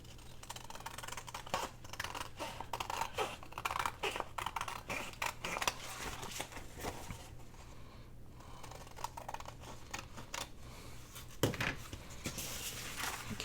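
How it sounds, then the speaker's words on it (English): Excess paper is trimmed off a handmade journal page, producing a quiet run of close snipping and cutting clicks with light handling noise and brief pauses. "Then we're just going to flip it over and we're going to trim this excess off."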